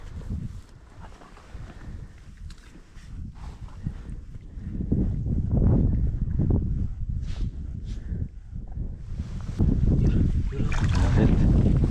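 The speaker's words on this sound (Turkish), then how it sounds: "Lodos esiyor. 25-26 esiyor arkadaşlar." Strong lodos wind gusting at sea during sea bass fishing, a loud continuous roar and buffeting that swells and builds, with water sloshing and occasional knocks close by.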